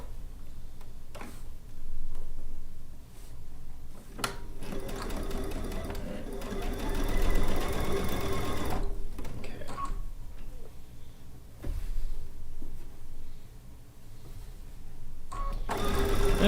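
A sewing machine stitches quilt pieces in fast mechanical rattling runs of several seconds each, broken by pauses and short clicks, with a person talking near the machine.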